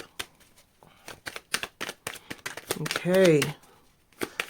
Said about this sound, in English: Last shuffle, last shuffle.